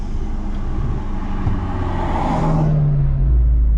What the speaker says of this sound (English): Oh, there's a nice Ferrari passing by.